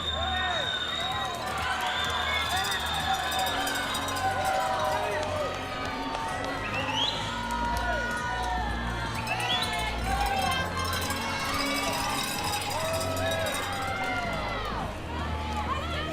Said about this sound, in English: as her teammates cheer her home